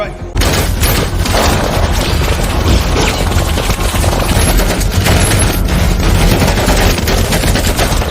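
Sustained, dense gunfire rattles continuously with booms and bursts layered together, loud and chaotic like a battle scene from a film.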